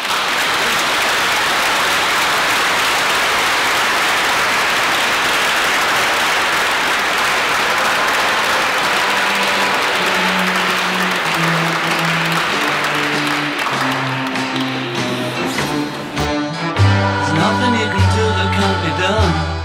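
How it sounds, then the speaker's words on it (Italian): Sustained loud applause from wedding guests after a church blessing, dense crowd clapping that holds steady and then thins as an organ or keyboard melody begins playing beneath it. "Facciamo un applauso agli"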